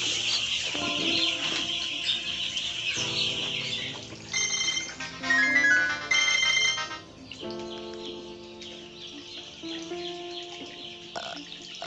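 A phone ringtone plays a repeating electronic melody for several seconds in a room where baby chicks are kept, with high chirping throughout before the ringing stops, fairly close and moderately loud.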